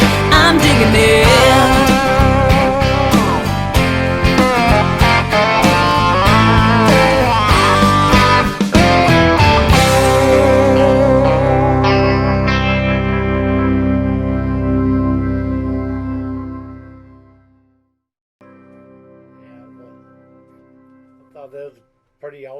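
Recorded country-pop song played by Nashville session players, dense with reverb-drenched guitars and a full band, then fading out to near silence, followed by a few faint scattered sounds at the end.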